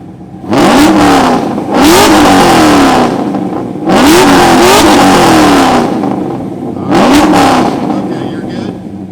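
A 2001 Firebird revs hard three times at an exhaust competition, each loud rising roar snapping back down to a rumbling idle between bursts, close up and dominant.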